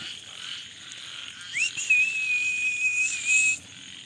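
A frog calling at night in an abandoned bungalow: one long, shrill, whistle-like note held for about two seconds over a constant hissing insect-and-frog chorus, with no talk.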